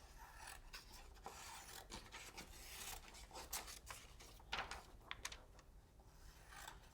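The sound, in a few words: cutting laser copy paper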